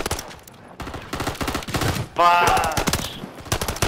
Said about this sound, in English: there's another guy shooting at him